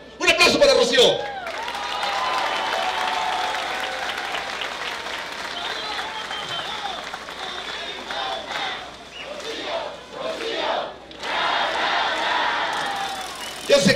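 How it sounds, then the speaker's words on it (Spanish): A rally crowd cheers and applauds for Rocío Nahle in Jalacingo, a loud, sustained wash of clapping and shouting that swells, dips briefly and surges again, with voices mixed in. "¡Un aplauso para Rocío!"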